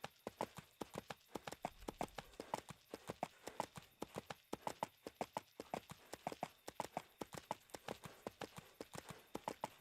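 Horse hooves clip-clopping in the game EverQuest 2, a steady rapid rhythm of distinct hoofbeats throughout, faint and even, with no talk.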